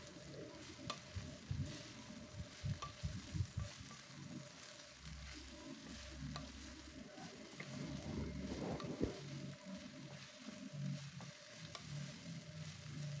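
Lemongrass stalks, kaffir lime leaves and bay leaves sauté in a pan, with a steady sizzle and irregular stirring scrapes close by and no voices.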